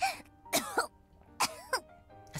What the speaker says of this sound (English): She coughs a couple more times